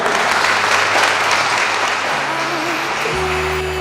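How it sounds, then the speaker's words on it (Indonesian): An audience at a televised drama event applauds in a dense, steady wash of clapping that keeps going through the clip as music rises beneath it. "Boleh beri tepuk tangan?"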